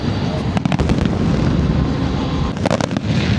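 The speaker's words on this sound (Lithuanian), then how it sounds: "Šitie saliutai šaudo kokį 10 minučių jau." Fireworks bang in rapid clusters over a dense, continuous rumble of distant bursts, with a second volley near the end, at the Formula 1 Qatar Grand Prix in Doha.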